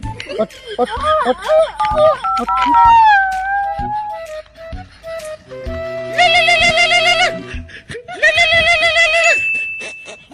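A telephone call is placed: a voice talks and calls out at first, then two sustained electronic tone bursts ring out loudly one after the other.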